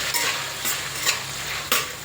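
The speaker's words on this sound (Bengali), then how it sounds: "আমি এখন এর ভিতরে দিয়ে দিচ্ছি পাঁচ থেকে ছয়টি পেঁয়াজ কুচি" Chopped onions hitting hot oil with black cumin for a chicken and potato curry, a steady sizzle punctuated by several stirring scrapes, no talking.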